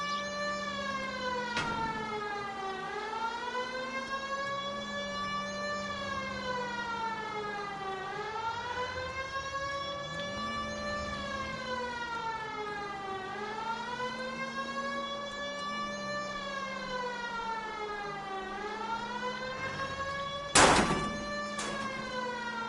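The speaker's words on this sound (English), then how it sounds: "At least if you put the siren on, it'll let people know what's happening before you hit them, Phelps." Police car siren in the video game L.A. Noire, a loud wailing tone sweeping up and down over and over, with a brief sharp thump near the end and no talking.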